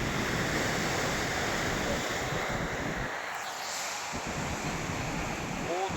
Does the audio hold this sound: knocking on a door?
no